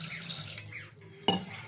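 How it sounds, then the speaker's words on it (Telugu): Water poured from a tap or jug into a pressure cooker holding mutton with ginger-garlic paste, a steady close splashing stream with a brief clatter near the end, no talk. "కొంచెం వాటర్ వేసుకొని"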